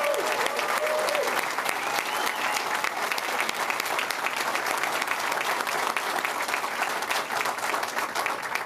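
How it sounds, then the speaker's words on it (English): A crowd in Mississauga applauds a Conservative Party of Canada leadership bid announcement, with dense, loud, sustained clapping that stays even throughout. "Let's give Brad another round of applause."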